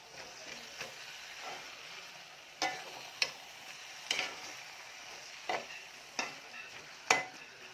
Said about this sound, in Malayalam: തക്കാളി ഇട്ട് കൊടുത്തിട്ട് നമ്മൾ ഇതേപോലെ ഒന്നും കൂടി നന്നായിട്ട് ഇളക്കണം.